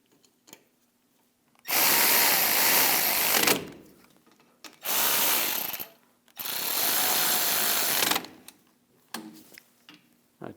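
A power tool runs in three loud bursts lasting one to two seconds each, separated by short pauses, driving in the brake caliper bolts on a 2015-2022 Chevrolet Colorado during a rear brake job, with faint clicks between bursts.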